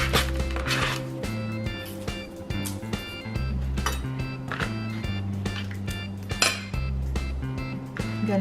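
A knife slices through a red onion on a cutting board while preparing beef fajitas, giving a run of crisp, irregular taps and chops over steady background music.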